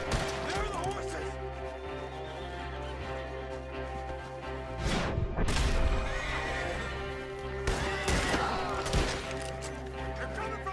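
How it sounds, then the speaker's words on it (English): Horses in the Red Dead Redemption 2 video game whinny and neigh repeatedly, with hooves clopping and sharp crashing or gunfire bursts mixed in, loud and close amid an action scene with voices. "There are the horses!"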